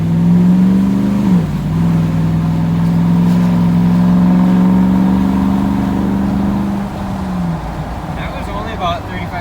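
A 2015 Ram 6.4 truck with a Flowmaster FX exhaust idling, a loud steady low engine drone with a brief dip and rise in pitch, heard from inside the cab with faint background noise.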